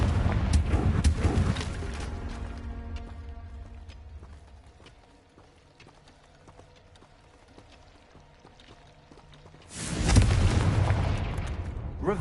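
A Confringo blasting spell explodes in the Hogwarts video game: loud broadband bursts open the passage, a quieter stretch follows, then a second heavy blast erupts near the end amid game ambience.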